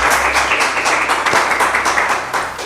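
Three rounds of rhythmic clapping from a group, steady and fairly loud, during a quiz program, with a voice faintly present.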